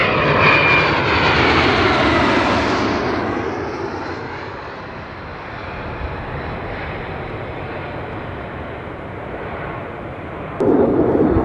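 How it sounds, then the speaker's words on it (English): Two F-35 Lightning II fighter jets on approach to land at RAF Lakenheath, a loud continuous roaring jet rumble that swells early on and then settles into a steady broad drone, with a brief louder burst near the end. "Right, two F-35s just on the brake. Looks like they're going to land this time."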